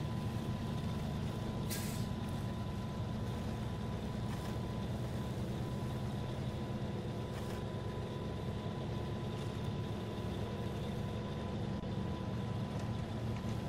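A heavy truck grinds through deep mud in the off-road game SnowRunner, running without mud tyres; a steady, loud low engine drone with churning rumble continues for the whole stretch, with a few brief hissing bursts like air brakes.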